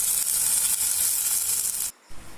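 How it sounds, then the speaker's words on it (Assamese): Pakoras fry in hot oil with a loud, dense, continuous sizzle that cuts off abruptly near the end, leaving a brief quieter hiss. "এটা ছাইড হৈ গৈছে, আনটো ছাইডে অকণমান সময় ভাজি লৈছোঁ।"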